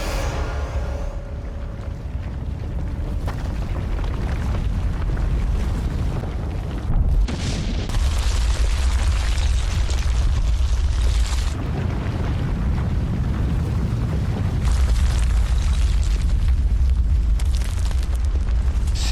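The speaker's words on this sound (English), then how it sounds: "Mount St. Helens violently explodes in a major magmatic eruption" Deep rumbling roar of the May 18, 1980 Mount St. Helens magmatic eruption with repeated booming blasts, sustained and loud, surging in waves over about twenty seconds.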